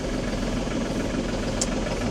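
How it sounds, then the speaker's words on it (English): A farm tractor with a hydraulic clutch idles on a cold early morning while warming up, a close, loud, steady low rumble with a knocking texture and no pauses. "My tractor, because it's a hydraulic clutch, is always extremely jumpy when it's cold"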